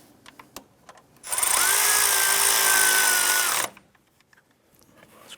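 A power drill or impact tool runs in one steady burst of about two and a half seconds, snugging a bolt through a bracket on a 1994-2004 Chevrolet S-10 during heater hose connector work, loud and close with faint clicks before and after.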